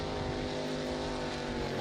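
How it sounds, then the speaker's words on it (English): A jet sprint boat nicknamed War Machine revs hard at the start line, its engine roaring loud and close, a steady, dense drone with harmonic whine held throughout without pause. "Lots of revs on the start line."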